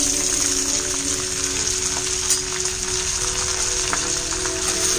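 Chopped cabbage, half a kilogram, sizzles steadily in hot oil for a cabbage chutney, a loud, dense, continuous frying hiss close up, with faint stirring clicks and no talking.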